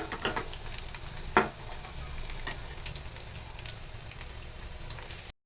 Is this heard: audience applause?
no